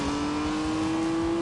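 A Honda NSX engine in The Grand Tour video game revs with a steady, rising tonal whine, a brief and fairly faint burst with no talk over it.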